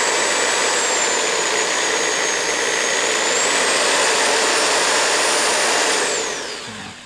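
A Remington 597 guide rod spun by a power tool with a cleaning patch and 220 polishing compound, giving a loud, continuous high whine with a slight pitch drift that winds down at the end, no talking.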